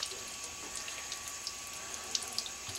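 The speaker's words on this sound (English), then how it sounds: "Now you can wash your hands" Faucet water runs steadily into a sink during handwashing, a soft, even hiss with a few faint clinks, quiet and fairly close, with no talking.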